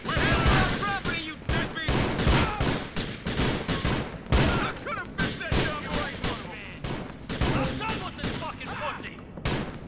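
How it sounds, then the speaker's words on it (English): Sawn-off double-barreled shotgun firing in GTA The Lost and Damned: a dense run of loud, close blasts repeating throughout, with game voices and chatter mixed among the shots. "the sawn-off shotgun, double-barreled shotgun"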